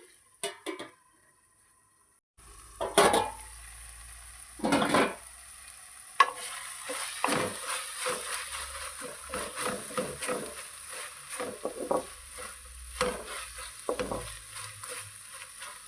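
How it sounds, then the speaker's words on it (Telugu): Fenugreek leaves, tomatoes and green chillies cook in oil in a pan, with soft sizzling and repeated scraping stirs of a spoon against the pan, close and moderately quiet, no talk. "ఈ మెంతికూర ఇదంతా బాగా మగ్గిపోవాలి ఇలాగ ఇంకా సిమ్లోనే పెట్టేసి మగ్గనివ్వాలండి"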